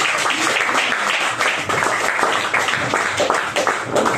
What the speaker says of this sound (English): Another round of applause for Akil